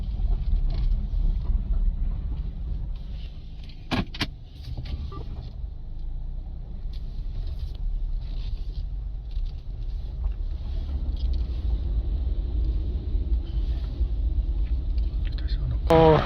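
A Scania 540S truck's engine rumbles low and steady at close range while the truck is being parked, with a couple of sharp mechanical clanks and a voice speaking briefly near the end.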